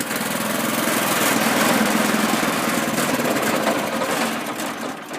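A 2125 trailer-driven concrete mixer's engine runs steadily at a close, loud, even idle, a continuous buzzing drone with no voices over it.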